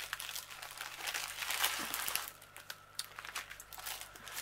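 A mailing envelope from AliExpress is opened up close: crinkly plastic rustles and tears in quick, uneven bursts, fairly quiet.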